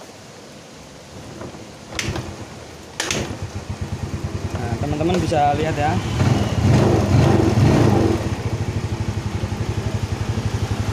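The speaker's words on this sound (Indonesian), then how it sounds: "Teman-teman bisa lihat motor ini posisi nyala. Dengar ya teman-teman ya." A Yamaha Mio Sporty scooter, prone to stalling and hard starting, cranks and catches after electric-start from a battery, then settles into a steady, close, rhythmic running putter while someone talks over it.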